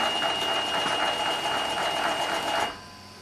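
A Frezal H101 overlock sewing machine stitches fabric with a steady, fast mechanical whir that runs loud and close for nearly three seconds, then stops abruptly, leaving a quiet hum.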